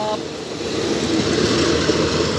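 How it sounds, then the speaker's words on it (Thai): Suburban commuter train 301 pulls away from the Nava Nakhon halt, a loud, steady rumble of rolling wheels and engine close by, with no voices. "ขณะนี้ขบวนรถชานเมืองขบวนที่ 301 นะครับก็ออกจากสถานี ป้ายหยุดรถ นวนครแล้วนะครับ"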